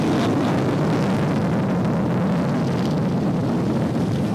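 A JF-17 Thunder fighter jet in flight gives off a loud, steady roar that fills the whole stretch without a break, with no voices over it.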